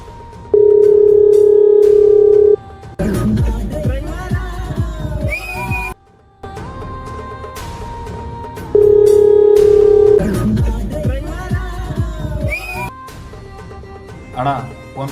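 A phone call rings unanswered in a Kannada film scene, two long buzzing ring tones separated by a pause, each followed by dramatic music and background voices.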